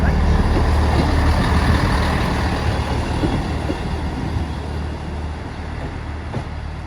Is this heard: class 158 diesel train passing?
yes